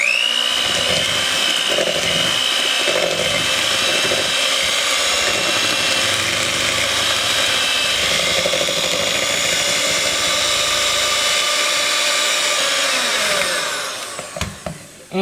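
An electric mixer beats eggs into banana bread batter in a bowl, a steady close buzzing motor whine running continuously before cutting off at the end.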